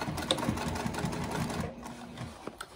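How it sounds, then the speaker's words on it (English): A sewing machine stitches fabric in a steady, fast mechanical chatter that stays fairly close and quiet, then slows and stops near the end, followed by a few small clicks. "I want to stitch right to that black line that I made earlier, which is that 3/8 inch mark."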